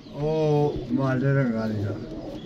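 A close pigeon of a breed called France gives a few deep, throaty coos in quick succession, loud and near.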